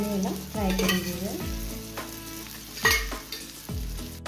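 Sole fish coated in rawa (semolina) fry in oil on a low flame for a crispy Goan-style fish fry. A steady close sizzle is punctuated by occasional clinks and scrapes of a utensil in the pan.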